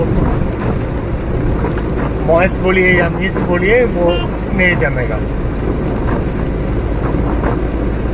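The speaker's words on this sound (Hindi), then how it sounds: "बारिश जोर से स्टार्ट हो चुका है।" Heavy rain drums steadily on a Tata Nano on a highway as someone talks over it in the foreground.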